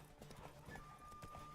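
A horse gallops in The Witcher 3: Wild Hunt, its hooves beating a quick, regular clip-clop rhythm at close range, with a brief whinny partway through.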